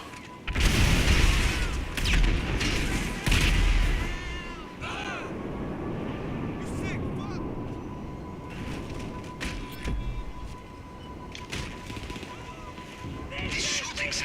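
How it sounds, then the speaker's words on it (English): Shooting and booms in the video game GTA 5 Online open with loud close bursts, then ease into a sustained engine-like drone with scattered later shots, and a voice talks in places. "This shooting sounds very encouraging."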